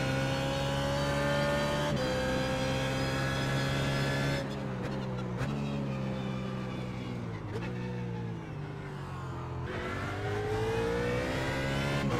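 BMW Z4 GT3 race car in the iRacing sim at Barber Motorsports Park, its engine droning loud and steady with rising and falling revs, shifts and throttle lifts through corners, no talking over it.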